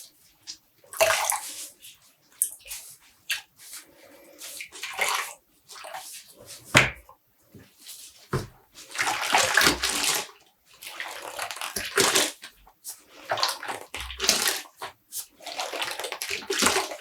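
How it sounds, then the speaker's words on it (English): Dyed black yarn being gently squeezed in a bathtub of water, with irregular bursts of dripping, splashing and sloshing as the wet wool is pressed and lifted, separated by quiet pauses; nearby and moderately loud. "And I'm gently squeezing out the water."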